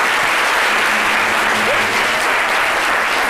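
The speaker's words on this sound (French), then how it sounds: "Oh, applaudissez Miss!" Audience applause fills the room for a newly crowned beauty pageant winner during a TV show, a dense, steady wash of clapping throughout with no pauses.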